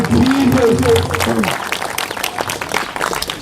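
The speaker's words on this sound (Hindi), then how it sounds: "तालियों के साथ थैंक्स करें और जोर से, और जोर से।" Church congregation clapping during a Hindi-language sermon, scattered claps rising under a voice that speaks over the start, then continuing as a loose, uneven patter.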